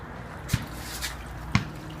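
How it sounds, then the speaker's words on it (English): Water drips and trickles during flask sparging for home brewing, with two distinct close plops about a second apart over a soft steady liquid background. "So we are flask sparging."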